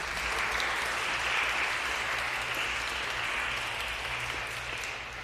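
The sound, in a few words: audience applause for a panel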